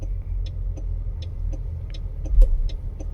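A Mahindra BE 6 car steering itself into a diagonal parking spot, heard as a low, steady rumble with a few faint clicks and a slight swell near the end, with no voices.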